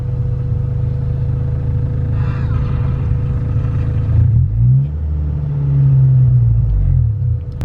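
A car that is not built for E85 fuel runs badly on it; the engine idles with a low rumble, then revs sluggishly, its pitch rising and falling as it struggles for power, loud and close.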